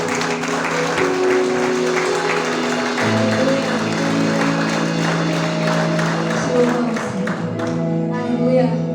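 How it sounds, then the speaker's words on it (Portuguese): Church congregation applauding during a worship service, a dense continuous wash of clapping over steady sustained music tones, holding loud for the whole stretch before thinning near the end. "Vamos aplaudir bem forte o nosso Deus."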